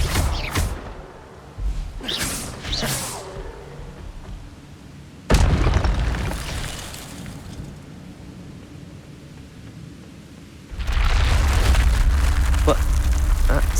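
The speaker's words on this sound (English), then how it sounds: "Expelliarmus!" Expelliarmus spell blasts in Hogwarts Legacy, loud booming bursts and whooshes that hit hard and fade, one large blast midway and a heavy rumbling surge near the end, with voices between them.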